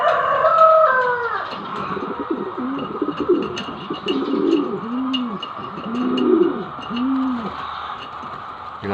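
Black velvet white fly pigeons coo close by in repeated soft, rounded phrases, several overlapping calls rolling through a steady background hum.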